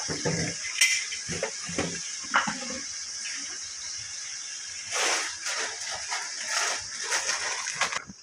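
Chicken being mixed with salt and chili powder in a pot for a spicy gravy curry, with clinks of a spoon against the metal and moist stirring scrapes, some sharp knocks near the start and a denser burst of clatter partway through.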